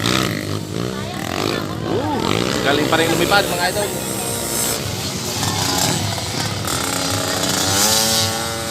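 A faulty motocross motorcycle engine at a motocross race in Paco Roman, Nueva Ecija, revs with a rough, roaring buzz that rises and falls throughout, running continuously under an announcer's talk.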